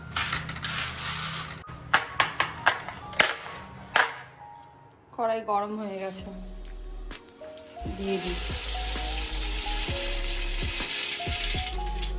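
A utensil clinks and scrapes as meat curry is stirred in a hot kadai, followed by a steady sizzle of frying. A voice talks nearby during the stirring.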